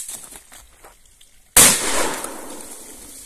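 A single sharp air rifle shot strikes a loudspeaker, a loud close crack with a ringing metallic tail that decays over about a second, after a stretch of quiet background.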